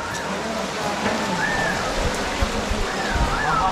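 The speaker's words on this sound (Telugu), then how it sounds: "చూడ మొత్తం వాటర్ వస్తున్నాయి" Water rushing and falling continuously at a rocky waterfall spot, a steady broad roar with voices calling out and talking over it.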